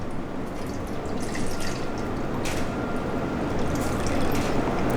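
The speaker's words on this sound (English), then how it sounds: "go ahead and pour that water into the pot" Water poured from a graduated cylinder into a pot for a chemistry experiment, a steady close splashing and trickling pour lasting several seconds with no voices.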